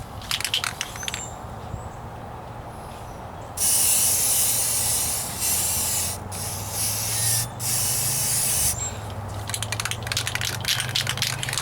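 Spray can laying primer coat on the wheel arch of a 1998 Ford Ranger outdoors, in a few loud hissing bursts of a couple of seconds each with short gaps, plus a low hum in the background.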